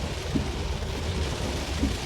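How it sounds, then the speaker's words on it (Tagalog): Steady, dense typhoon rain roars throughout, a broad constant wash with a couple of faint low thumps beneath it. "Ang lakas ng ulan."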